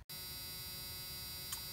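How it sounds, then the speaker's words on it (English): A steady electronic buzz from a Fox Body Ford Mustang SVO, heard during power window motor replacement, drones without a break, flat and unwavering, with a brief click near the end. "Excuse the buzzer sound"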